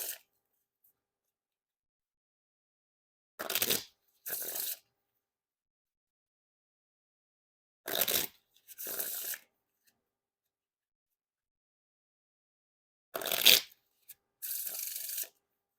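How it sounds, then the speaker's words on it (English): Three separate riffle shuffles of a grey HMNIM playing-card deck, each a quick crisp burst of fluttering card edges followed by a brief bridge rustle, close and clear, with silence in between. "And now time for the riffle shuffle or bridge shuffle."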